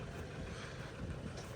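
Breeze blowing outdoors by a car with a contract GW4D20 diesel engine, a steady low rumbling buffet of wind against the microphone throughout, fairly faint.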